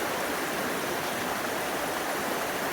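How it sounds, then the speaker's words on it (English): Steady rushing water from a swift creek, a continuous broadband roar with no pauses, close and fairly loud, no voices. "at night when it's quiet, I can hear the creek."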